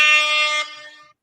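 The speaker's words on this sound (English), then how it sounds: "Oh, air horn button." A single loud air horn blast triggered from a sound-effect button holds for about half a second, then fades quickly to silence.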